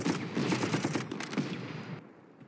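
Artillery firing in the strategy war game Panzer Corps, a dense run of rapid booming shots and rumbling impacts, loud and close, that breaks off abruptly near the end into quiet.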